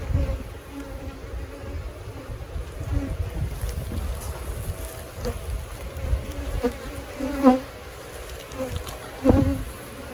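Honey bees buzz around an open beehive, a dense continuous drone close by, with occasional louder passes as individual bees fly near and faint handling noises underneath.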